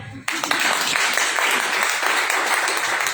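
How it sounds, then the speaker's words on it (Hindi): Sustained applause from an audience at a live product demonstration, loud and dense clapping that starts abruptly and continues steadily to the end. "श्री तुलसी के लिए तालियां।"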